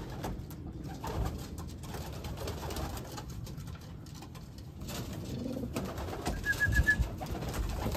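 Racing pigeons coo softly at their loft after a 150-mile race, with low murmuring calls heard at a distance under steady outdoor background noise.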